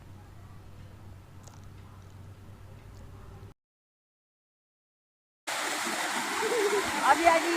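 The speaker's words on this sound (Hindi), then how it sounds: "इस वाटरफॉल का नाम है जना वाटरफॉल, जो कि मनाली में बहुत फेमस है।" Jana waterfall in Manali rushes as a broad, loud wash of falling water that cuts in abruptly after a few seconds of quiet outdoor ambience and a brief silent gap.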